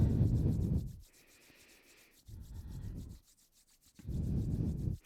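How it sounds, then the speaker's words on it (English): Palms rubbing briskly together during a seated yoga practice, in three loud bursts of friction separated by quieter pauses, close and with no talking. "then you rub your hands together"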